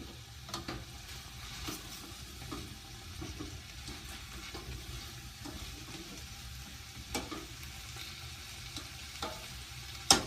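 Mirepoix fries and browns in a pot for an elephant-garlic and potato stew: a steady, fairly quiet sizzle with occasional soft clicks and stirring taps, heard alone.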